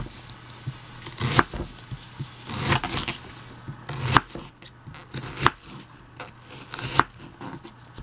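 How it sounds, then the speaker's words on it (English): Half of a small onion chopped with a knife on a board, a series of sharp close knocks and crisp slicing strokes in uneven rhythm, fairly loud and clear with no speech. "Alright, so we're going to slice this onion up,"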